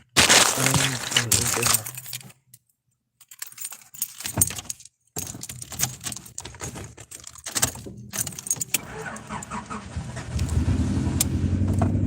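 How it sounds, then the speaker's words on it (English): Keys jangle and rattle close by in bursts with short pauses, then a car engine is started and settles into a low, steady rumble at the end. "Let's see if I'm lucky enough to be able to get my car started"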